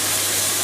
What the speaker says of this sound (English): little sizzle.